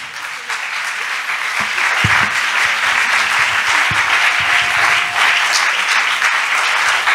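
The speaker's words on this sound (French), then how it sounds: "Nous acclamons bien fort la parole de Dieu" A church congregation at a Sunday prayer service applauds loudly and steadily for several seconds, with dense, even clapping throughout.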